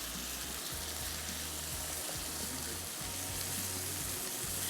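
Minced meat (keema) frying in a pan with onion and garlic paste, giving a steady, dense sizzle throughout with a low hum pulsing underneath.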